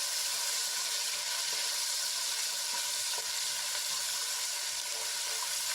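Ginger, garlic and chilli paste sautés in a hot pan with a steady, even sizzle that holds from start to finish, with no talking.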